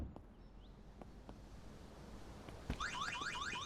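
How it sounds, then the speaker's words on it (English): A video game alarm starts up partway through, a repeating wavering electronic tone that follows a short thud over steady low background rumble. "Alarm."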